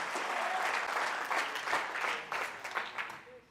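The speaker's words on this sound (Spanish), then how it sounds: "Fuertes aplausos a nuestro Dios." A church congregation gives loud, sustained applause for several seconds, heard at a moderate distance with no talk over it.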